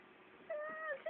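A cat in a video game meows in a drawn-out, wavering tone, followed by a short second meow, heard over a low steady background hum.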